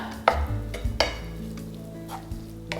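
Burger mince being mixed with mayonnaise for slider burgers: soft, wet squelching and stirring with a few sharp clicks and knocks, close and fairly quiet, with no talking.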